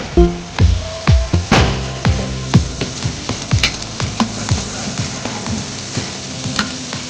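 About 1.5 kg of big onions sizzle in hot oil for a large batch of mutton pepper gravy, a constant loud frying hiss broken by repeated rhythmic scrapes and knocks of stirring.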